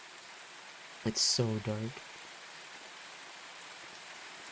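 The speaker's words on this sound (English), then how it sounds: "we're just walking around outside in the rain" Steady rain falls outdoors in a video game, an even wash of hiss throughout, briefly covered by a short spoken line.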